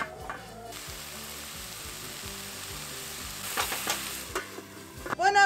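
Vegetables for a Spanish-style ahogado sofrito fry steadily in hot oil, a dense continuous sizzle with occasional stirring scrapes, growing louder and busier near the end; no one speaks.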